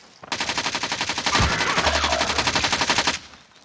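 Rapid automatic gunfire from the video game Call of Duty: Warzone rattles off in one sustained burst of about three seconds, close and loud, with a dull thud partway through.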